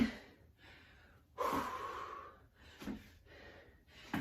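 Heavy breathing during an interval training workout comes close to the mic as a rhythmic series of sharp gasps and long exhales, about four breaths, with quiet gaps between them.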